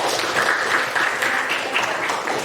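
A classroom audience applauds a student named Jaka during a school lesson, the steady, dense clapping of a group sustained close by for a couple of seconds with faint voices mixed in.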